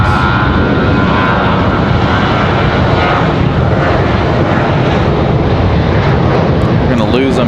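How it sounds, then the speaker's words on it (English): A departing American Airlines Boeing 737-8 jet gives a loud, steady broadband engine roar that holds for the whole stretch at an airport, with a voice talking over it. "So this one headed back to Miami, the 737-8 for American Airlines."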